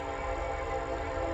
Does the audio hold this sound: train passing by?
yes